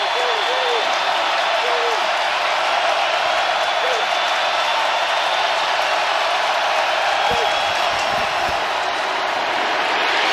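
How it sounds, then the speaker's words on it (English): Stadium crowd at an NFL football game, New York Giants at New Orleans Saints, roars in a steady, dense wash of cheering and applause that fills the whole stretch with no letup. "Crowd on its feet."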